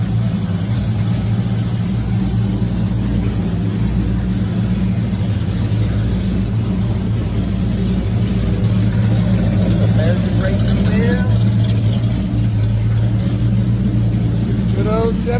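A 1960 Chevrolet C10 Apache pickup with a 350 small block V8 idles steadily with a deep, even rumble, a light rev rising briefly near the end while a person talks over it.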